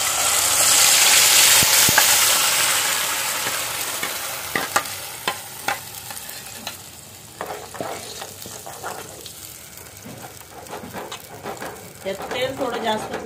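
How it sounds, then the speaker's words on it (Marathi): Ground masala paste hits hot oil in a home kitchen pot for rajma, giving a loud broad sizzle that slowly settles, with intermittent stirring clicks and scrapes throughout. "तेल गरम झालंय। आता त्याच्यामध्ये टाकूया आपण डायरेक्ट वाटण आपला"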